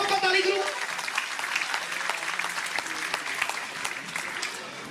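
Audience applause at a Global Punjabi Association gathering, a dense, steady clatter of many hands that stays strong throughout and eases only slightly toward the end, with no voices over it.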